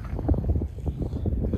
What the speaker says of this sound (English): This wind is killer